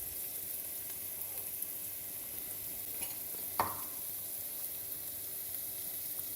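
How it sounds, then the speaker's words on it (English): Sliced carrots and garlic sauteing for a beef vegetable soup sizzle faintly and steadily in a pan, with a single sharper scrape or clink of the stirring utensil partway through. "I need to keep stirring this so we don't get any more of that happening"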